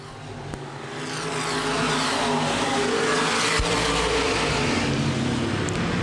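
Open wheel modified race cars roar around a dirt speedway during a feature race, a dense, loud engine drone swelling as the pack circles the back straightaway.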